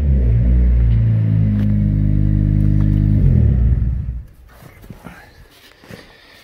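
A Honda Civic Sport with a K-Tuned exhaust revs hard and close, a loud droning note held for a few seconds before it cuts off, followed by faint clatter and footsteps.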